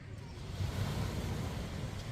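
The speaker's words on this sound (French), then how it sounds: "on commence à entendre les vagues" Ocean waves wash onto a beach in the early evening, a soft, steady low surf mixed with wind buffeting the microphone and no clear talk.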